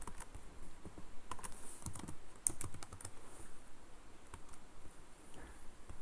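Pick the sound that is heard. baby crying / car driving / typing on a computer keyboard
typing on a computer keyboard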